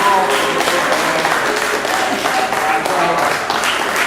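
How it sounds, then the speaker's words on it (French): An audience at a cabaret evening in Mérindol applauds, close and fairly loud clapping with scattered voices mixed in throughout. "Là, je crois qu'on peut l'applaudir."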